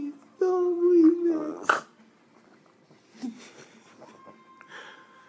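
A Boston terrier growls over his toy in a low, rumbling growl that rises and wavers for about a second. Later come quieter whimpering, wheezy sounds and a brief tonal noise.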